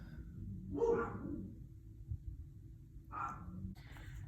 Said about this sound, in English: My dogs are going nuts right now.